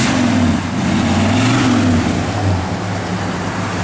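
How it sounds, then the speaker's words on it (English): A 1969 Dodge Super Bee idles with a steady low engine drone, rising into a mild rev and easing back down, recorded close by without talk. "Give it a little rev, Gary."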